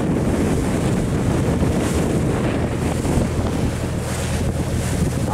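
A high-speed boat racing across clear sea near Hon Son island, with loud continuous engine roar mixed with rushing water, wave slap and heavy wind buffeting on the microphone.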